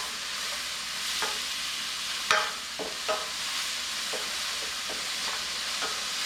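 Onions seasoned with salt and pepper being stirred in a hot pan, a steady sizzle with scattered scraping clicks from the utensil, close and moderately quiet.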